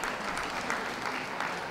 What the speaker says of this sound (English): Please give a round of applause to those leaving the ring